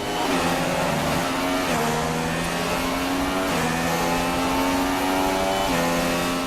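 An F1 car's engine in the racing game F1 2016, practising at the Australian GP, screams loudly and steadily, climbing in pitch and dropping back at each of several upshifts spaced about every two seconds.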